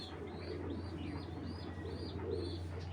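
Tumbler pigeons of the Giribaj fancy breed coo softly in a loft, a series of repeated rising-falling calls over a low steady hum, faint and without voices.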